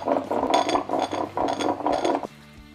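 Poncha, a Madeiran drink made with honey, shaken to dissolve and mix, giving rhythmic bursts of rattling, clinking and sloshing in a shaker, four quick shakes close up before stopping.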